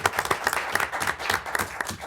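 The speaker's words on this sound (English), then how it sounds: "Let's give him a round of applause." An audience at a city council meeting claps in a steady burst of applause, moderately loud and fairly close, with dense overlapping hand claps keeping an even pace throughout.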